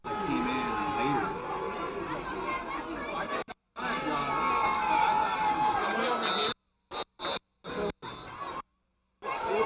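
Crowd noise at a high school football semifinal between Upland and Bishop Diego, a broad murmur of chatter and cheering from many spectators that cuts out abruptly several times near the end.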